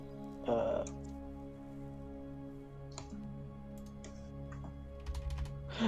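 Keys tapped on a computer keyboard in a few short bursts, quiet and close, over a steady low hum with a brief voice near the start.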